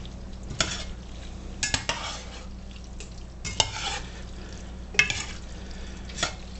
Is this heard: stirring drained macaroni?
yes